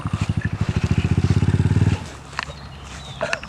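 A dirt bike engine chugs close by in a fast regular pulsing beat for about two seconds, then cuts out, leaving faint rustling, scrapes and distant background noise.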